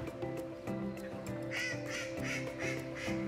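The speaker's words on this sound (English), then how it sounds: "Mallard ducks are lovely" Mallard ducks quack at the Avon River in a rhythmic series of loud, nasal calls close by, repeating about twice a second over a faint background.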